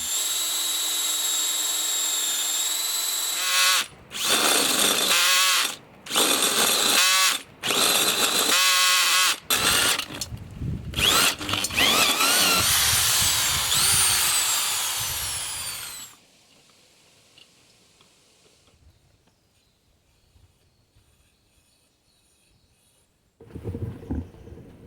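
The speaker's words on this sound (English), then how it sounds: "It will fit just over the bolt, and it will dig out a hole for the washer and the nut." A power drill boring a hole in wood for a washer and nut over a bolt, running in loud bursts with brief pauses, then cutting off, leaving quiet room sound and a faint voice near the end.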